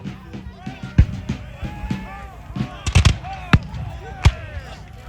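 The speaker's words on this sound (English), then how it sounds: "The big guns begin to fire." Cannon fire at a Civil War battle reenactment at Cedar Creek in Middletown, Virginia: several loud booming blasts, some near and some distant, irregularly spaced amid crackling musketry and a speaking voice.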